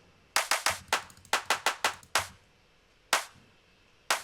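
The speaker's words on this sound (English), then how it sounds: "The clap, 2 layers." Crisp, dry two-layered electronic claps in a progressive house track hit in a quick rolling pattern, with several bursts close together and then two spaced hits, sharp and bright.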